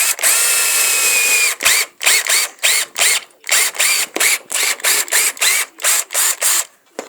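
A drill taps threads for a zerk grease fitting in a lawn mower deck spindle, starting with a long whine and then running in short, loud, rhythmic bursts with brief gaps.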